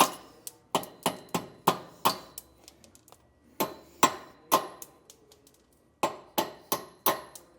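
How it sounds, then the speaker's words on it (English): Hammer blows knocking brake assembly mounting studs out of a trailer axle flange during a DeeMaxx disc brake kit install, sharp metallic strikes in quick bursts of three or four with short pauses, close and loud, no talking. "The mounting studs or bolts for our brake assembly are also going to get popped out."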